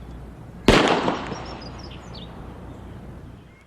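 A single sharp gunshot from a .40 S&W caliber pistol cracks loudly outdoors, followed by a long fading echo with faint birdsong in the background.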